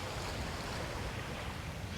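Ocean surf at a beach in Nassau rushes in a dense, continuous roar, mixed with buffeting wind noise on the microphone and no voices.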